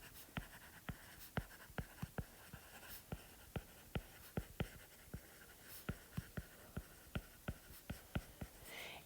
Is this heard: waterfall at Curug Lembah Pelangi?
no